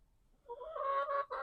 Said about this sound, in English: I don't know if y'all can hear them chickens or not